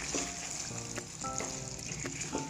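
Four or five green chillies fry in hot oil in a karahi while cooking butt karahi, a close, continuous sizzle with occasional stirring clicks and scrapes.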